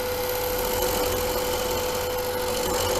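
A woodturning gouge cuts into a spinning wooden workpiece on a lathe, working deeper toward a bead. The motor hum stays steady and close throughout, and a continuous scraping cut runs under it.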